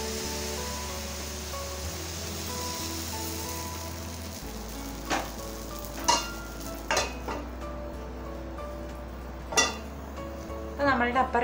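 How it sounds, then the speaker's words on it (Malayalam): Appam batter cooks in a hot appam pan with a steady low sizzle and hiss, interrupted by several distinct clinks and scrapes of utensils against the pan, close by with no speech. "നമ്മുടെ അപ്പച്ചട്ടിയൊക്കെ നന്നായിട്ട് ചൂടായിട്ടുണ്ട്. ഇനി നമുക്കിതിൽ 1 അപ്പമായിട്ട് ചുട്ടെടുക്കാം."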